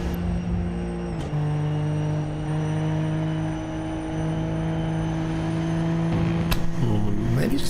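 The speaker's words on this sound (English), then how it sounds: "I'm listening to the throttle through the carousel." Race car engine in a racing video game at Road America, a steady sustained drone with held throttle through a long corner, a brief shift blip near the start and a rising rev late on, loud and continuous.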